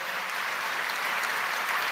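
An audience at a worship gathering breaks into dense, continuous applause, a steady wash of many hands clapping together at moderate distance, with no talking over it.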